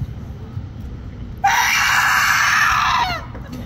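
A person lets out a single loud, sustained scream lasting about a second and a half in a scream contest at a Halloween horror podcast gathering, then trails into a breathy catch, with quiet room noise before and after.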